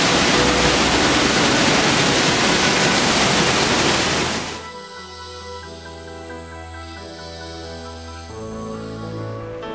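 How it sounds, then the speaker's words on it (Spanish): A waterfall in Costa Rica roars loudly as water flows and falls, a dense broadband rush that drops abruptly partway through to a quieter wash of flowing water with steady tonal layers. "tener la posibilidad de ser parte del agua misma que fluye, que cae"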